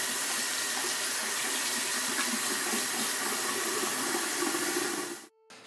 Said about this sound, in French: Et puis maintenant, on rince.